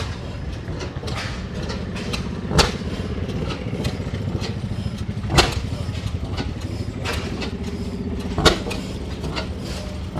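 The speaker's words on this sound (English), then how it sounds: "That's an oil field engine." An old oil field engine at a gas engine and tractor show in Portland, Indiana runs with a steady low chugging, with loud periodic firing thumps every few seconds standing out over the continuous mechanical rumble.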